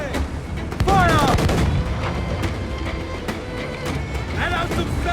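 Ship cannons fire during a naval battle in Assassin's Creed IV Black Flag, with repeated heavy booms and rumbling blasts over a dense, continuous battle din, while crew voices shout throughout.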